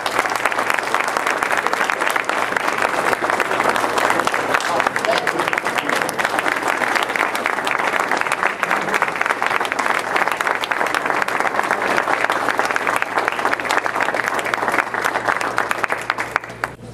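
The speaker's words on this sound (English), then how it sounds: "Let's give him another round of applause for what he has done." Sustained applause from a Rotary membership forum audience for a keynote speaker, dense even clapping from a large indoor crowd holding steady for over fifteen seconds before tapering at the end.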